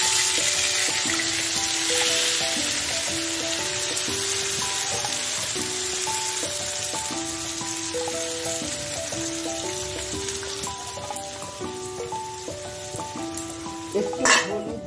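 Spice paste hits hot oil in a frying pan with a continuous bright sizzle, a few utensil clinks near the end, and melodic music playing underneath.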